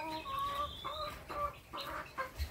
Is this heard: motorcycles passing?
no